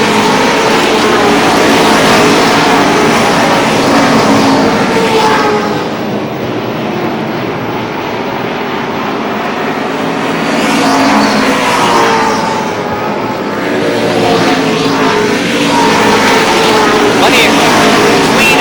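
Race cars lap the Lee Speedway oval in New Hampshire during a late-race stretch, their engine roar swelling and fading in long passes as the pack goes by, with a voice talking over the din.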